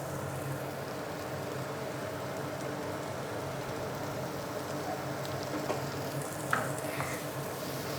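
Noodles and mixed vegetables stir-frying in a hot pan give off a continuous sizzle with soft stirring scrapes, plus a couple of sharper clinks of the utensil near the end and no speech.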